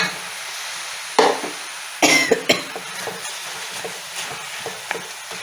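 Cooked rice being stirred into frying masala in a pan for tomato rice, with a steady sizzle underneath and several sharp scrapes and clatters spaced out over a few seconds.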